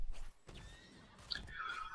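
A horse whinnies briefly in the Heroes of the Storm video game as the dwarf king Muradin rides off on his mount, a short high neigh over soft game ambience with faint hoofbeats.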